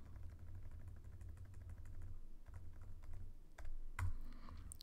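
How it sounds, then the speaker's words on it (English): Values typed on a computer keyboard in a series of quick, fairly quiet key clicks over a low background hum, with no talking. "when I run this and I type in the values"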